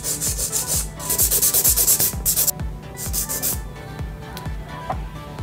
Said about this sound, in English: I'm going to use the 100 grit side, and we're going to come in on the lateral sides.